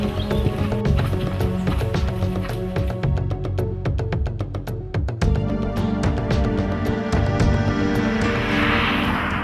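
Horses trotting in a Polish riding setting, hooves clip-clopping in a steady rhythm that stays loud and close, with a faint whinny and some background music.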